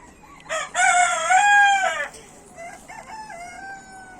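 A single loud rooster crow rings out close by, a long strained call followed by a quieter trailing cluck-like tail.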